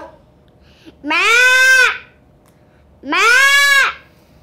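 A child at a school for blind children imitates a sheep with two long, wavering bleats, each lasting about a second and separated by a short pause, loud and close against a quiet room.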